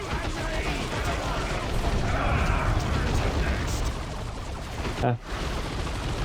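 Ork troops taking enemy gunfire in Warhammer 40k: Dawn of War II – Retribution on highest difficulty, a dense continuous roar of battle noise with a brief voice over it and a short dip near the end.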